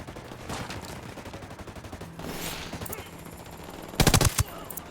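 Gunfire crackles in Ghost Recon Wildlands, with scattered shots at first and then a sharp, loud automatic burst near the end. Nobody is talking.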